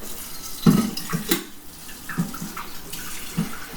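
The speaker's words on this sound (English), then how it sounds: "let me pour that out. There's still that much coffee left from this morning." Leftover coffee from the morning poured out of a cup into a sink, a steady close liquid splash with a few louder gurgles and spatters, no talking.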